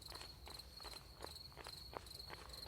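A steady high cricket trill from a field runs throughout while soft footsteps crunch at a regular walking pace in the dark, quiet and close.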